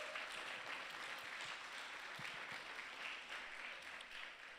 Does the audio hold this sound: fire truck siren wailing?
no